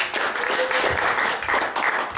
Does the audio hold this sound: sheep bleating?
no